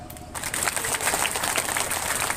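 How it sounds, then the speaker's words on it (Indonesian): Audience applause from the congregation at an Indonesian Islamic religious lecture by Ustad Abdul Somad in Muara Dilam, a dense, steady clapping that starts suddenly and carries on loudly without a break. "Mana tepuk tangan?"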